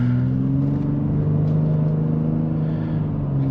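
A Ford F-150 Raptor with its high-output 3.5L V6 and ten-speed transmission pulls steadily under acceleration, a continuous low engine drone and road rumble heard from inside the cab without talk.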